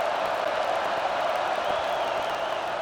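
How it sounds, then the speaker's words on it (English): A stadium crowd in the College Football 25 video game at a Northwestern vs Washington matchup roars steadily and loudly, a dense, unbroken wash of massed noise with no pauses. "This crowd bringing the energy and noise early."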